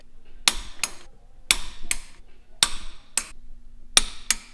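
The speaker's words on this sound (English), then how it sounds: "Now we gotta torque them down to 65 foot-pounds." Torque wrench tightening the bolts of adjustable cam gears: four pairs of sharp metallic clicks in a steady rhythm, close and loud in a quiet space.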